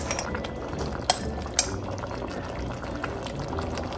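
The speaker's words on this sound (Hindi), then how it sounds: "अभी भी देखें सिमर हो रहा है" Lamb shank masala simmering in a pot, with a steady close bubbling and a couple of sharp metallic clinks and no talking.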